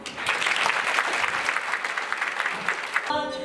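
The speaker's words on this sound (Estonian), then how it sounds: "Teeme teile kõigile ühe suure aplausi." An audience claps at an awards ceremony presenting orders and merit badges, with dense, steady applause filling the hall. Toward the end, tonal music enters over the fading clapping.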